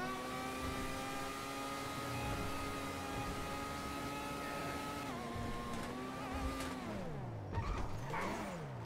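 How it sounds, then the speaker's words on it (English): The Benefactor BR8 F1-style race car engine in GTA 5 drones at a steady high rev, then its pitch drops and swoops through several rev changes near the end, loud and alone. "It's aggressive. It's powerful, a high rev engine."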